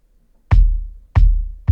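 Layered kick drums in a mix break down, with lows and highs trimmed for extra punch, heard as two loud, deep, booming hits with long low sustain and a third hit starting at the very end, with no other sound.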